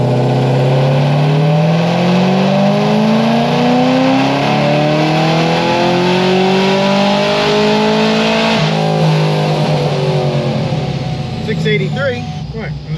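A tuned rotary engine in a car on a dyno screams through a loud pull, its pitch climbing steadily for several seconds before dropping off as the throttle closes, followed by a brief rattle near the end.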